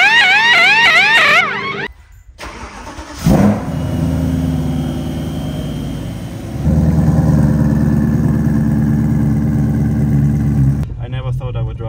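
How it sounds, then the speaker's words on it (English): A 700 HP BMW M3 E90 drives through snow, its engine droning steadily and loud with rising revs partway through, after a brief burst of musical tones at the start and a short cut in the sound. "here we are driving my M3 in winter"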